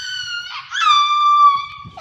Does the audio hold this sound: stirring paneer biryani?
no